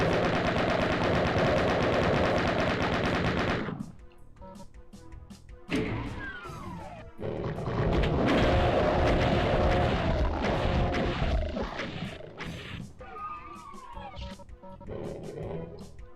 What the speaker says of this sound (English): I like to bust up the rocket launcher here.